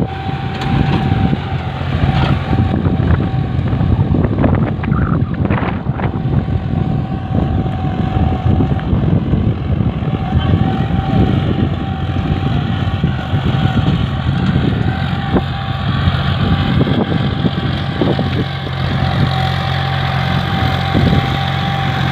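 A John Deere 5050D tractor engine runs steadily while pulling a 16-tine harrow in a field, a continuous loud diesel rumble with no talk.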